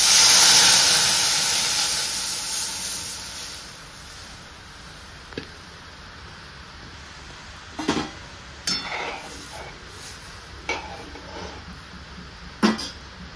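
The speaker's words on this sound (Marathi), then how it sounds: "तर मी आता ह्यात दूध ओतून घेते।" Milk is poured into a hot pan of roasted, reddened semolina for a milk kheer. It opens with a loud, close hiss and bubbling that fades to a quieter simmer, broken by a few sharp clinks of utensils.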